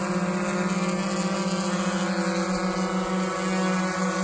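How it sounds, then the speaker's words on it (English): A GoPro Karma quadcopter drone hovers close by with a loud, steady whine of spinning propellers, its buzzing motor tones holding constant with no talking. "this drone is quite noisy"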